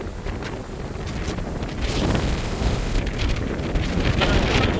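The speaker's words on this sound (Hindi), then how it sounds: "आज बड़ी ठंडी हवा तेज़ तेज़ चल रही है" Strong cold wind buffets the microphone on a ferry deck arriving at Dover, a loud, gusty rumble that surges and roars continuously, with a faint voice underneath.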